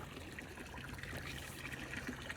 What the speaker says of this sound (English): I gotta turn the water off